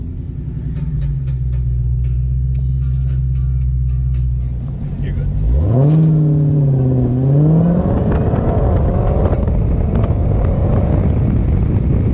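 A 2018 Dodge Demon idles with a steady low rumble, then its engine revs up sharply around the middle and settles into a loud, close drive with road and wind noise; no one speaks.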